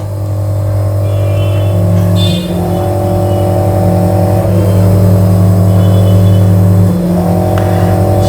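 A two-chamber nano coating machine for waterproofing mobile phones runs with a loud, steady motor drone that briefly drops and then picks back up, in cycles a few seconds apart. No speech is heard.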